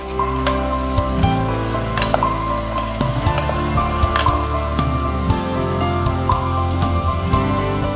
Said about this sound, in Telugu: బీరకాయ వంకాయ తర్వాత కొద్దిగా కలుపుకోవాలండి